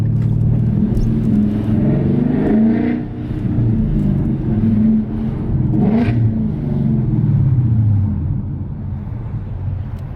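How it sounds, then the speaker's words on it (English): A Ford Mustang GT engine with an X-pipe and electric exhaust cutouts revs and rumbles steadily, rising and falling in pitch with a throaty exhaust tone, loud and close, with no talking. "you could hear like the noise of the engine instead of just being loud"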